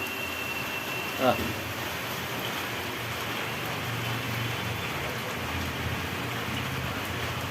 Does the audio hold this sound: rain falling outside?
yes